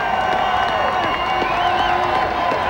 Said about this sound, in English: Let's hear it for Marshall Faulk, folks. Give him a nice cheer.